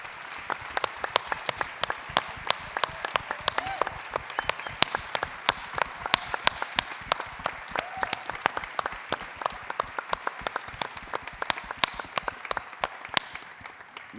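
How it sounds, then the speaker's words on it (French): A live audience at an entrepreneurship awards ceremony gives a long, steady burst of applause for the candidates and entrepreneurs, dense overlapping clapping with sharp individual claps standing out throughout. "faire un tonnerre d'applaudissements pour les candidats et tous les entrepreneurs"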